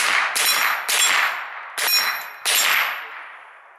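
Four sharp gunshots ring out with a metallic clang as they strike a steel practice target, irregularly spaced across a few seconds, each ringing and decaying before the next.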